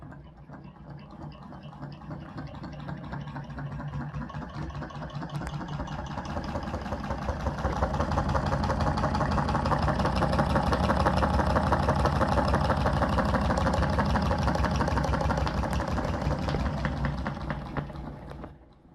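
A small homemade solenoid engine built from CDs, screws and spare parts runs continuously with a fast, buzzing mechanical clatter, steady and close, swelling slightly in the middle before tapering off.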